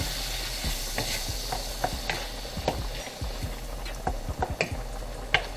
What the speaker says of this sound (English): And with some garlic. Give it a stir.